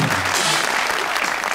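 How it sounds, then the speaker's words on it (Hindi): A studio audience at a TV talk show applauds guest Adnan Siddiqui, a loud, dense wash of clapping that fills the brief moment without letting up. "अदनान भाई के लिए फिर भी तालियां।"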